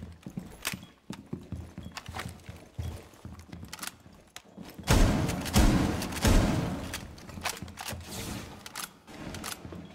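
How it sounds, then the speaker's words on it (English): Weapon reload in a Rainbow Six Siege ranked match: a string of sharp mechanical clicks and thuds, then a louder clattering burst of handling noise, close and clear, with no talk over it. "Reloading."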